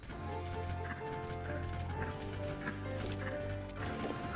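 A horse trots in the video game Tears of the Kingdom, its hooves clip-clopping in a steady rhythm under tonal game music, with faint whinny-like sounds. The sound is quiet throughout.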